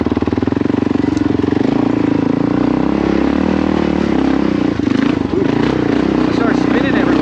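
A Kawasaki KLR650 single-cylinder motorcycle labors up a hill climb, its engine pounding loudly and close with a rapid, steady thump, wavering as the throttle shifts near the end.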